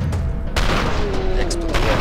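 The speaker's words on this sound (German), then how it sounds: "Explodiert." Loud, close explosions and gunfire in the shooter game F.E.A.R. 2, a sharp blast followed by heavy rumbling bursts over two seconds.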